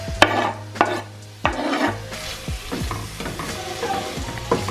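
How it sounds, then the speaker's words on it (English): Ground beef and onions cook together in a skillet, a close sizzle punctuated by sharp spatula knocks and scraping strokes against the pan, irregular and fairly loud. "We also have to add the onions to the ground beef and cook it all together."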